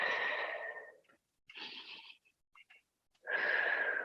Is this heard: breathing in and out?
yes